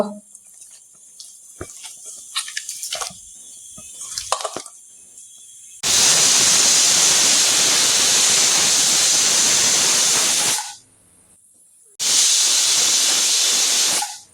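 A pressure cooker vents steam in a loud, steady close hiss that runs about five seconds, pauses, then bursts again, following a stretch of kitchen clatter and talk.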